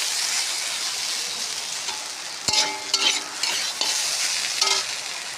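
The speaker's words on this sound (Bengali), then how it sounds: "এখনও হয় নাই, হচ্ছে আলু ভাজিটা" Potato bhaji frying in a pan, a steady close sizzle throughout with a few brief scraping stirs and small clinks from the middle onward.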